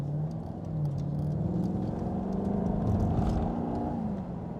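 A 2012 Maserati GT Convertible drives slowly with a steady, close engine rumble that swells a little midway, accompanied by road and cabin noise and no one speaking.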